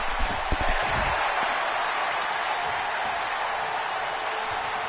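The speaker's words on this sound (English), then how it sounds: "you hear the eruption from the crowd with the "This is awesome" chants" A wrestling crowd at an HQW event erupts after a dive, with a burst of cheers and claps at the start settling into a sustained, dense roar of crowd noise.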